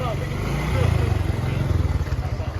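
A scooter engine keeps running while pushed through knee-deep flood water on a street in Gujarat, a steady low motor drone with pulsing throb, close and continuous, with splashing mixed in.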